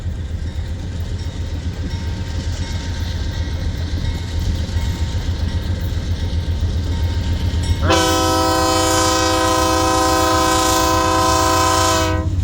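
A westbound freight train rolls past at Pacific Junction, Iowa, with a loud, close rumble of wheels. Partway through, a powerful multi-tone horn blares and holds steadily to the end.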